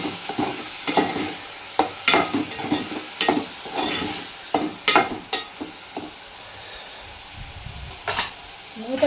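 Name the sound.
onion curry simmering in pan with salt, turmeric, chili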